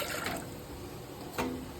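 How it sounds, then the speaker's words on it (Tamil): Water is poured into a small pressure cooker, a faint, brief trickle and splash with a short burst of louder pouring near the end. "அதில் வந்து தண்ணி ஊற்றிக்கிறேன்."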